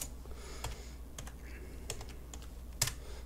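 Light, quick keystrokes on a computer keyboard while entering a timer value in Kerbal Space Program, scattered taps and a few sharper clicks, close and quiet over a low background hum.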